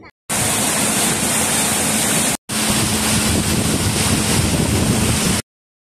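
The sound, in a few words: boat ride on lake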